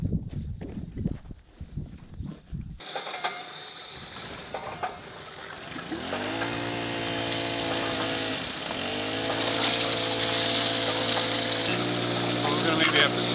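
A motorized pump starts up and runs steadily, pumping water into a sluice box, with a rushing water hiss growing louder over its hum after some clattering and handling noises.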